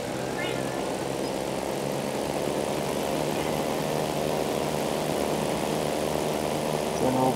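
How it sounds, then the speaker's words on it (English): A big helicopter in the video game ArmA 2 makes a steady droning engine and rotor hum, a continuous loud mechanical roar that holds unchanged from start to finish. "I didn't want you to lose that big helicopter"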